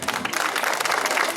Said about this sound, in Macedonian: ќе ве замолам прво за еден огромен аплауз за генералниот покровител